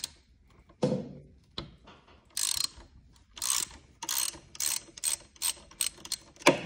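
A ratchet works loose the oil drain bolt on a four-stroke go-kart engine, giving close, sharp clicking bursts in a quick, irregular series of strokes.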